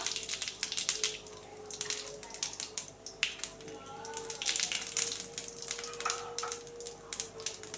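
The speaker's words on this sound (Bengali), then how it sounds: "তেল গরম হয়ে গেছে আমি শুকনো লঙ্কা জিরে সম্বরা দিয়ে দিলাম" Dried red chilies and cumin seeds hit hot oil in a kadai as a tempering for dal, giving a steady, close crackle of sharp pops and spits over a low background hiss.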